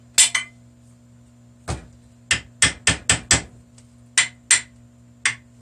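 Hammer tapping on metal while building a plow part, about a dozen sharp ringing strikes close up, some in quick pairs and runs with short gaps, no talking.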